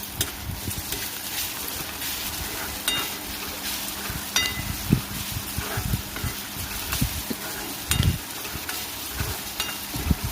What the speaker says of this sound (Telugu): చూడండి ఎంత బాగా ఫ్రై అవుతుందో